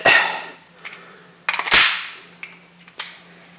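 A WE Hi-Capa 5.1 Hyperstrike gas airsoft pistol fired through the last rounds of its magazine, about six sharp close cracks at uneven intervals, the final shots weaker as the gas runs out.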